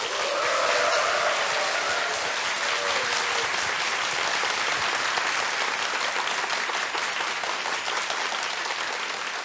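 A studio audience at a Korean economics lecture concert claps to welcome a Mirae Asset Securities real estate expert, sustained dense applause that holds at a strong level throughout with no talk over it.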